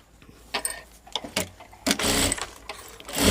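A sewing machine stitching a blouse gives short, close bursts of rapid whirring stitches separated by brief pauses, building into a longer run at the end.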